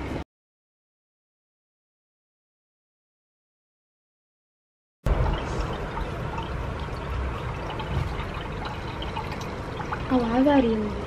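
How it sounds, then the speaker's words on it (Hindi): Water pours steadily into a container, a continuous splashing trickle heard up close, with a voice talking over it near the end. "आवाज आ रही है पानी की, बहुत प्यारा लग रहा है।"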